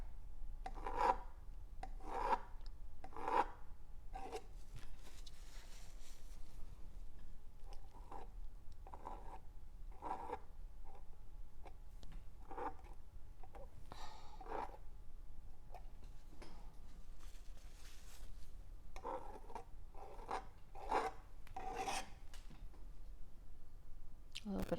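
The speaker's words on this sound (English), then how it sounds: "I'm going to scrape a little to get that to merge better." Paint being scraped from a canvas while painting a sky, a series of short, rasping scrape strokes repeating irregularly and close by, fairly quiet, with a low background hum.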